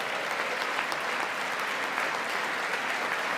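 Sustained applause from a large audience at a State of the Union address fills the space evenly, dense and steady throughout with no speech on top.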